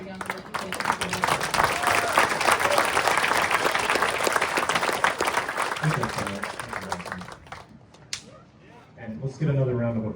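Loud, sustained applause from an audience at a community band performance, dense clapping filling about eight seconds before fading, after which voices are heard talking.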